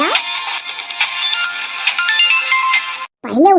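A mobile phone ringtone plays loudly and continuously as a melodic electronic tune, cutting off near the end before a voice briefly speaks.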